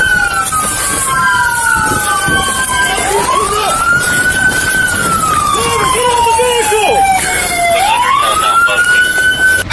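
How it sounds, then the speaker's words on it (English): A loud wailing police siren sweeps up and down continuously during a police chase, with overlapping siren tones and engine and road noise throughout; voices are faintly heard underneath. "Cut the sirens."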